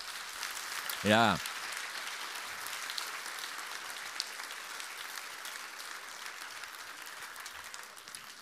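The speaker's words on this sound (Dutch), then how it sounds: "Geef God een applaus, hij is goed." A church congregation applauds God in a broad, steady wash of clapping that carries on throughout, with a brief voice calling out near the start.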